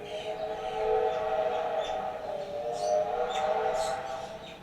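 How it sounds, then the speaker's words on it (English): A steam train rumbles past with a steady mechanical hum, and faint hissing bursts rise and fall over several seconds at a moderate distance. "Love that sound. That's a steam train."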